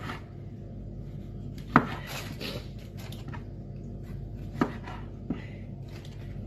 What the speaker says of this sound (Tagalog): Ngayon naman po, magayat ako ng isang kamatis na malaki.